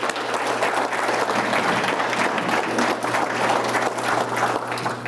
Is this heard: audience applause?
yes